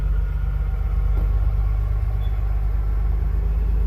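A truck engine rumbles in a city street, a steady low idle drone that stays close and even throughout, with no voices over it.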